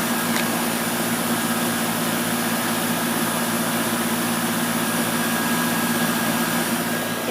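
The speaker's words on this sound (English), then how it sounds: "It's one of my favorite air conditioners in the world. It's so cool. It sounds awesome. Those are just Bristol compressor." Steady, unbroken hum of a running Bryant air conditioner fitted with a Bristol compressor, a constant mechanical drone with a low tonal buzz, heard up close with no talking.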